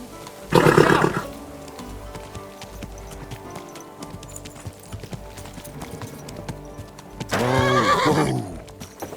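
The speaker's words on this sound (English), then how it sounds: "Watch out with that horse!" A horse in the medieval game Kingdom Come: Deliverance 2 gives two loud, close neighs, one near the start and one near the end, with quieter hoof clopping and ambient noise in between.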